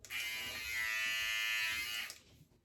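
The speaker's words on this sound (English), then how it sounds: "I'm going to do a head shave right now." A One Blade electric shaver buzzes steadily through a head shave, a close, loud, continuous hum lasting about two seconds before cutting off, with no talking.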